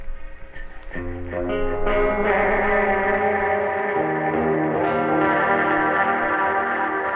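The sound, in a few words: electric guitar through delay pedal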